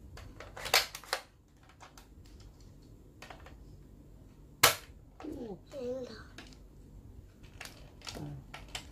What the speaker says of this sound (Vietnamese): Rồi chúng ta bắn viên đạn nó sẽ bay ra.